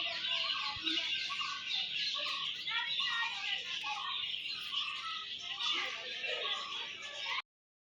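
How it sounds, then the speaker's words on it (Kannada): Many kinds of birds call at once at a small zoo, a dense, continuous chorus of chirps, tweets and whistles at moderate distance with insect-like buzzing beneath, ending abruptly. "ಬರ್ಡ್ಸ್ ಅಂತೂ ಸಿಕ್ಕಾಬಟ್ಟೆ ವೆರೈಟೀಸ್ ಬರ್ಡ್ಸ್ ಇದೆ"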